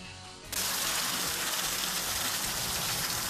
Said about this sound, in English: All of that rain, just overwhelming amounts.